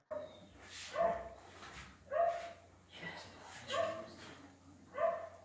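Injured, bitten dogs at an animal shelter giving four or five spaced, whimpering barks and yips, fairly faint over a quiet background.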